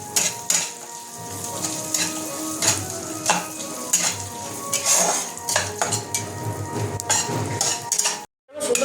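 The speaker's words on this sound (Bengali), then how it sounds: "এটা একটুখানি ভেজে নেব।" Almonds, cashews and raisins frying in a little oil in a pan, a steady sizzle broken by repeated scraping and clinks of a metal spoon stirring against the pan, loud and close.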